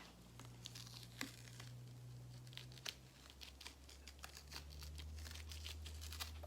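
A plastic liner is peeled off leather coated with contact cement, heard as close, faint crinkling and tearing with small sharp ticks over a low steady hum, and no talk.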